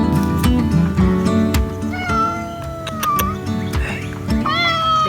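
Indoor city cats on leash training outdoors meow repeatedly, several loud, drawn-out calls close by, overlapping with clicks and background rustle.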